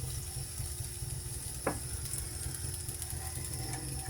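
Oil heating in a dried pan, a steady, faint sizzle that crackles evenly under a light hiss, with a single brief clink of metal near the middle.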